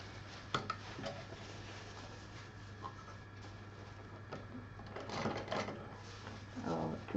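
A sewing machine stitches piping onto a fabric pouch, its quiet whirring stitching coming in short runs with soft clicks and clacks, faint and close by.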